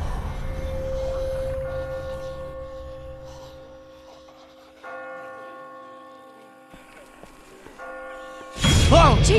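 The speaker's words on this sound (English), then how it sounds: "I just got spooked by those bells" Bells ring in The Walking Dead video game, a church-bell tone struck a few times with long sustained hums between strikes, ending in a sudden loud burst of noise.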